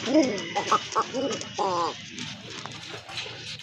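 A male pigeon coos several times up close, soft rolling calls in short bursts with quiet background noise.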